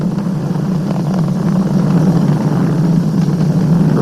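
SpaceX Falcon 9 rocket in flight just past Mach 1, a loud continuous low roar with steady rumble and no breaks, heard alone.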